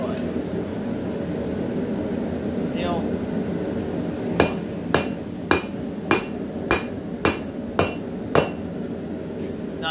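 A hammer strikes hot metal on an anvil while forging a scorpion tail bottle opener, with about eight sharp, evenly spaced ringing blows in the second half over a steady background hum.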